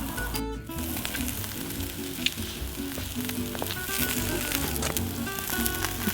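American Kobe Wagyu filet mignon, already cooked sous vide, sears in a hot pan with a steady, close sizzle and light crackling spatter.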